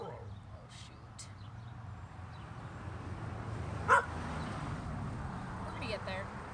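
Outdoors, dogs give a sharp bark near the middle and a few fainter yips later, over steady background noise.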